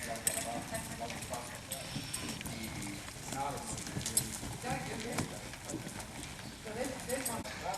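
Horse hooves clip-clop in a steady rhythm on the ground as the horse is lunged, while a person talks over them.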